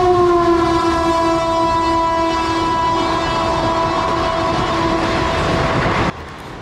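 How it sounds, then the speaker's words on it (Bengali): An express train passes a station, its horn sounding a loud sustained tone for about six seconds over steady rolling rumble before cutting off abruptly, with no voices. "এক্সপ্রেস ট্রেন আপ এবং ডাউন সারাক্ষণই এক্সপ্রেস ট্রেনই যাচ্ছিলো"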